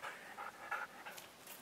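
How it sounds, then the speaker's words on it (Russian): A neighbour's tethered dog pants quietly, a soft rapid run of breathy huffs, close and faint with no talk over it. "Тоже соседская собака."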